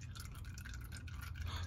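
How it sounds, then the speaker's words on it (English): Engine oil dripping from the drain of a Mercedes C Class 2.1 diesel into a pan, faint repeated small drips over a low background hum, quiet and close. "So we'll let this drip, drip, drip for a wee while"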